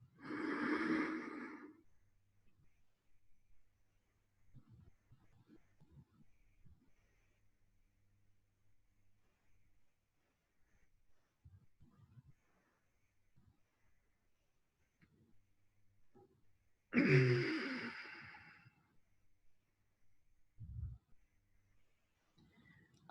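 Deep breathing during Tummo meditation: two long, loud breaths, one at the start and one near the end, separated by a long quiet stretch with only faint, soft rustles.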